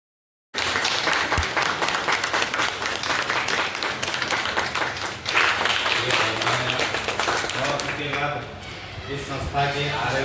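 Loud, dense applause fills a hall at a company meeting, steady clapping that swells partway through, with voices and music mixed in toward the end.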